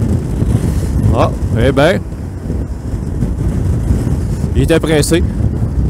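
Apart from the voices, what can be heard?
strong wind while riding a Suzuki V-Strom 650 motorcycle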